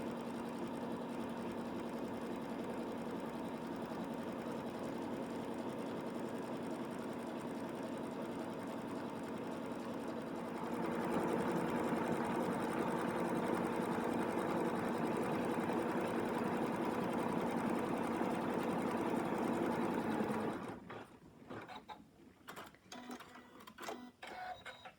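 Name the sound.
embroidery sewing machine stitching teddy bear legs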